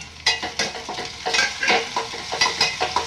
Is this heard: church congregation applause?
no